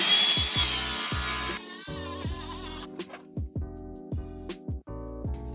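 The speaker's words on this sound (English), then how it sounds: "And now we're going to go cut a piece of plywood." A saw cuts through a piece of plywood for a skateboard base in strong strokes at first, then gives way to a series of separate knocks and scrapes. No one speaks.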